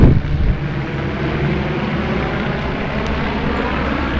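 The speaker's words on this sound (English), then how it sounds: "Those are homemade airplanes." Homemade RV kit airplanes fly past during arrivals at the Oshkosh airshow, a steady broadband engine drone that holds at a constant level throughout, louder at the start, with no talk.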